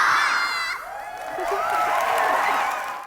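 Children cheering and shouting together for a five-year-old girl, a loud, continuous crowd of young voices with whoops rising and falling across the moment.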